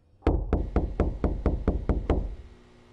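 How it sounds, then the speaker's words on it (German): Eight evenly spaced knocks on a wall or door in the horror video game UNFOLLOW, sharp and fairly close, in a steady rhythm with a short fade after the last. "Ich kann da überall dagegen klopfen"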